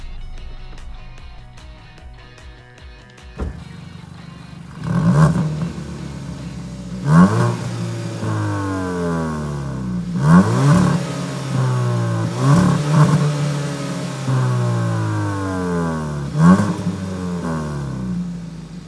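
A Kia ProCeed GT 1.6 T-GDI engine idles with exhaust in normal mode, then revs repeatedly in sharp bursts that rise and fall, loud and close, with no talking.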